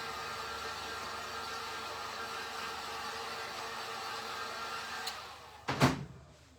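A hair dryer gives a quick dry to a Christmas reindeer craft: a steady, fairly loud airy roar held for about five seconds, then switched off with a couple of sharp clunks and handling noise.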